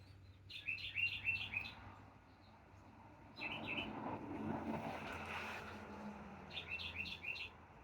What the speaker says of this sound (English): Listen to these birds.